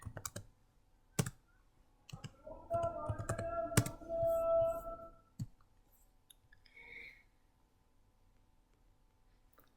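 Commands typed on a computer keyboard into a Cisco network switch configuration: scattered single key clicks, then a dense burst of rapid typing, a few more isolated taps and a final sharp keystroke, close and fairly quiet.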